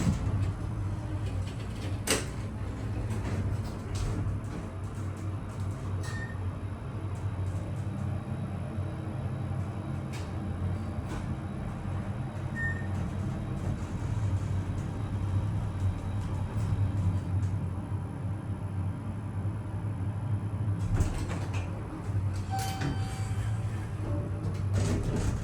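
A hydraulic elevator motor runs with a steady low hum inside a tall cab in a Houston building, faint and continuous, with scattered light clicks and knocks over it.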